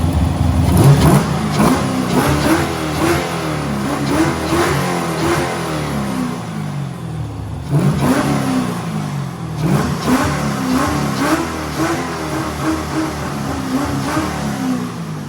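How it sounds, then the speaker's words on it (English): A Nissan 240SX engine fitted with headers revs several times up close. Each rev swells and falls back in a steady rhythm over an idling drone. "Mark, would you rev it up a couple times? Sounds like a race car"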